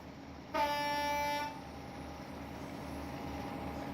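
A Class 04 diesel locomotive in Train Simulator running flat out, its low engine drone steady throughout, with a loud, clear horn blast for about a second near the start.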